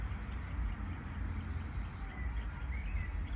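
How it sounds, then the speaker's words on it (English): Birds chirp and trill in short repeated calls against a low rumbling background, somewhat distant. "now that I hear the birds singing in the trees"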